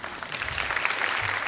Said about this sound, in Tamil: அழகான கைத்தட்டு இதுக்கு தான் வருது.